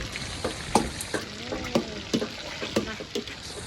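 Something frying in a pan in a home kitchen, a steady low sizzle broken by irregular clicks and scrapes of stirring, with faint voices in the background.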